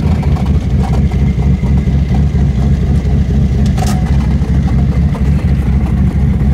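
Twin-turbo Chevrolet S10 engine running loud and close, a dense, rough low rumble that holds steady with slight pulsing and a brief higher squeal near the middle.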